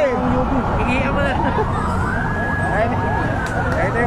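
A fire truck siren wails loudly and steadily as fire engines arrive at a blaze at the Araneta Bus Terminal in Quezon City, with the rising and falling tone sustained under voices and street noise.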